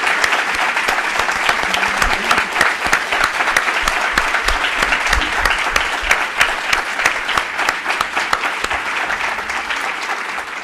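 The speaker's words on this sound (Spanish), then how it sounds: "un gran aplauso" Sustained applause from a seminar audience, dense steady clapping that fills the room for about ten seconds without a break, with no voices standing out above it.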